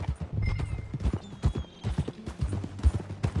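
Horse hooves clip-clop at a steady riding gait in Red Dead Redemption 2, close and moderately loud, with a brief whinny and faint voices in the background.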